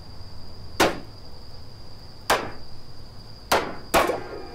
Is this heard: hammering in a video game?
yes